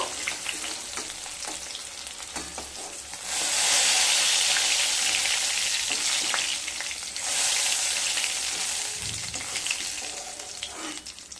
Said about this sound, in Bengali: অপর সাইডটাও খুব ভালোভাবে মাছটাকে ভেজে নেব।